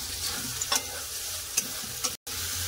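Cauliflower stir-fries in spiced oil, a continuous close sizzle with a few brief scraping stirs and a momentary dropout near the end.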